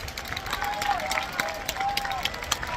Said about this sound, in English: But they are getting a big round of applause from the Anyang faithful.